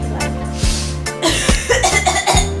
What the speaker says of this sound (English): You ain't got a cough in every single one of my videos.